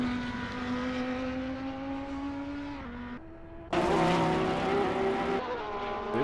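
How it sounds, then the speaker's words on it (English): Race car engine in a sim racing game on the Nordschleife, held high against the rev limiter with a buzzing, stuttering whine, then dropping and surging louder through gear changes, close and continuous. "he is banging off the the limiter there"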